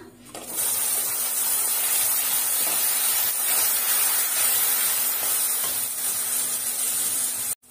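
Ground coriander paste with asafoetida sautéing in a pan, giving a loud, steady sizzling hiss that starts abruptly and holds evenly until it cuts off near the end.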